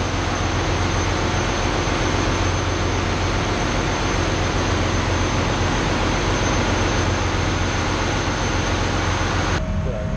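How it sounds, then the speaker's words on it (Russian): Turbines in a boiler plant running at 900 rpm, a loud, dense, unbroken mechanical roar with a steady high whine, filling the whole stretch without pause. "Наши турбины разогнались, вторая 900 оборотов, уже 900 оборотов"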